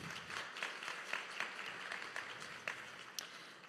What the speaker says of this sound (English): So please, round of applause for our panelists this morning.